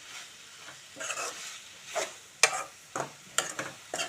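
Chili powder fries in a pan with an eggplant and tomato curry, a soft sizzle broken by several sharp scraping stirs of a spatula in uneven bursts, close and moderately loud without talking.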